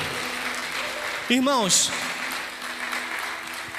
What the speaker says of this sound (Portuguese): Você pode dar uma salva de palmas bem forte para o Senhor?